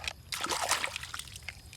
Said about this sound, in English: Firstly, I have to put some water.